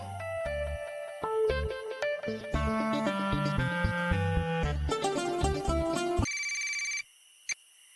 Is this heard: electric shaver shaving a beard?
no